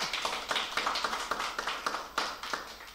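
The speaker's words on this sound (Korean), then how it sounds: "함께하고 계신 내빈과 주민 여러분 큰 박수 부탁드리겠습니다." Scattered clapping from a small group at a community residents' meeting, a fairly quiet, uneven patter of hand claps with irregular louder claps over about three seconds, no talking.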